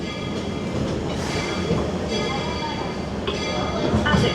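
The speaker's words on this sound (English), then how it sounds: "As we go into the station, please remain on board and seated until the train comes to a full and complete stop" A Magic Kingdom railroad train rolls into Main Street Station, giving a steady, close rumble of wheels and carriage noise with faint squeals and a murmur of riders throughout.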